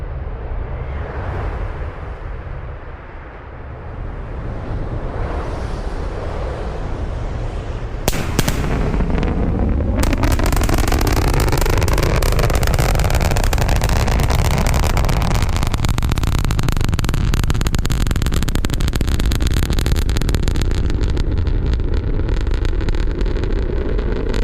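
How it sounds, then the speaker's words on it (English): SpaceX Starship sonic booms roll in as loud, sharp thunder-like cracks followed by a long, heavy rumble that fills the rest of the passage, with no talking. "General impact to those in the surrounding area is that brief thunder-like noise."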